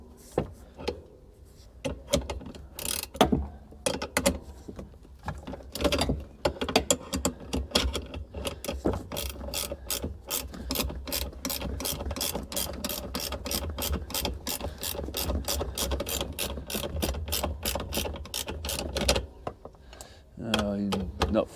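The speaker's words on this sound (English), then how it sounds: "I'm having to use an 18mm spanner" 18 mm ratchet spanner working a bolt on a Mustang, a rapid run of sharp, regular clicking bursts close to the microphone, pausing now and then, with a voice talking between strokes.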